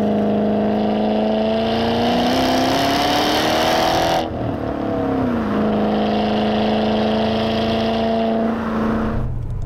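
A supercharged MG ZT 400 fitted with a Mustang V8 engine revving up and down close by, a loud throaty roar that rises, drops sharply midway, climbs again and then cuts off.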